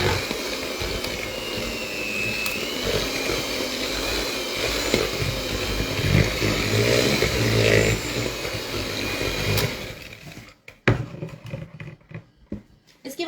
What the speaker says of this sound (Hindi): इसके बाद में हम लोग अब इसको ब्लेंड कर लेंगे।